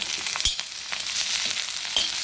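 Garlic and raw ginger fry in a hot pan with a steady crackling sizzle, punctuated by a few sharp pops and spatters, close and fairly loud with no voices.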